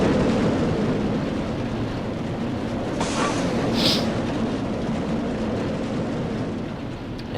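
A roller coaster train rumbles past at an amusement park, a loud continuous roar of wheels on track with a brief rising rattle midway, steady throughout with no talk.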